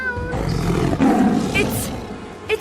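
A tiger's roar in a children's English lesson, a loud, rough growling roar that swells and holds for about two seconds, with a voice-like quality that may be a person imitating it.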